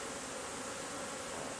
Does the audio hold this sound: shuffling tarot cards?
no